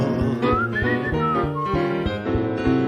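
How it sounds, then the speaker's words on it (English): A bright, melodic whistled tune drifts over a bouncy instrumental accompaniment with a steady, upbeat rhythm. "give a little whistle"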